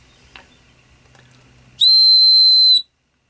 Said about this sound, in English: It's something really handy, a whistle like this, for signaling, for danger.